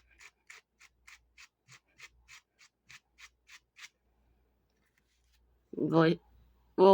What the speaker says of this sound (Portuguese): Vamos sempre limpando a rascadeira, tirando esse excesso de pelo para facilitar a escovação